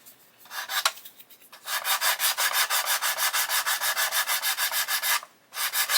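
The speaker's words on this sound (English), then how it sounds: "I'm just going to keep sanding" Sandpaper strokes run over the wheel arch of an Italeri 1/12 Lancia Stratos model car body in quick, even back-and-forth rubs. The rasping rhythm is close and steady, with a short pause near the start and another near the end.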